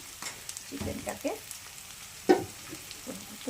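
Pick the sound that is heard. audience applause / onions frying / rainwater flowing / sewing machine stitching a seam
onions frying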